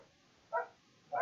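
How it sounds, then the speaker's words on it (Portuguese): Two short, faint dog barks spaced about half a second apart, heard from a distance in an otherwise quiet setting. "por causa do barulho aqui dos cachorros"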